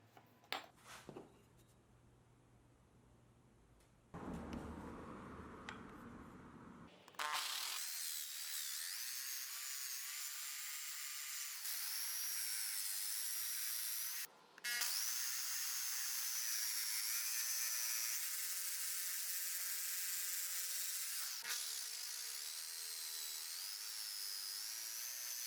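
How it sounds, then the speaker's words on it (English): A power tool cuts a dovetail insert into a spalted maple mallet handle: quiet workshop handling gives way to a loud, steady high-pitched whine that runs on with a brief pause midway. "I'm cutting a dovetail-looking insert at the top of the handle to place between the middle pieces of the mallet head"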